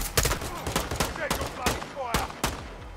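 Rapid gunfire in the video game Modern Warfare 2: a string of sharp, loud shots in quick irregular bursts, close and punchy, with faint voices mixed underneath.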